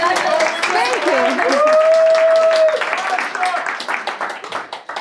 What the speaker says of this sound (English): can we give a round of applause for Daria?